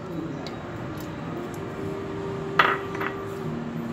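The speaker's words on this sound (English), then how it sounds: "Now take pressure cooker. Now in this, add on your Bengal gram." A metal pressure cooker clanks once sharply while Bengal gram goes into it, followed by a few lighter clinks against a steady kitchen hum and soft background noise.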